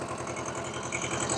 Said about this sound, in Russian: набирает наш двухцилиндровый двигатель обороты достаточно быстро, вообще без проблем